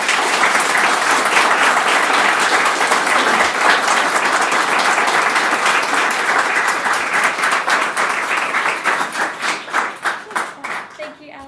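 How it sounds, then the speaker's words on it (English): A live audience bursts into sustained applause after a talk, dense clapping filling the room at full strength before thinning into scattered claps and fading out near the end. "From that round of applause"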